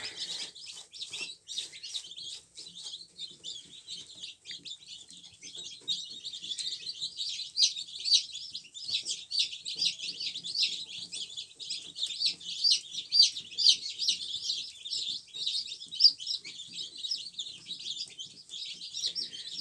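A crowd of young chicks, white cockerels and brown pullets, peeping continuously, high and busy chirps overlapping at close range with no talking.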